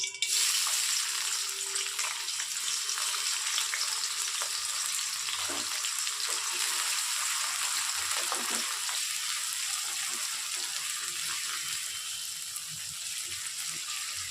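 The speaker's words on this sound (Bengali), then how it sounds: "তেলটা গরম হয়ে গেছে, আমি পেঁয়াজ কুচিগুলো দিয়ে দিলাম।" Chopped onions fry in hot mustard oil, giving a loud, dense, continuous crackling sizzle that holds steady throughout with faint occasional scraping beneath.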